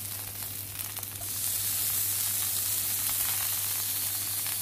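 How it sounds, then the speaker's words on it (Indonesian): Shrimp and tomatoes sizzle steadily in olive oil on a hot grill, a continuous hissing crackle that swells slightly louder partway through, with no talking. "Dan kita akan panggang sebentar tomat kita ya"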